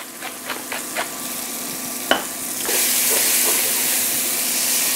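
Onions seasoned with salt and pepper cook in a hot pan, a few sharp stirring clicks at first, then a broad steady sizzling hiss that swells and holds loud and close, with no voices.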